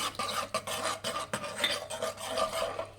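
Spoon stirring lemon-sized tamarind into fried tomatoes in a pan for wedding-style Mysore thili saaru, a steady soft rasping scrape repeated in quick strokes, close and fairly quiet, with no talk.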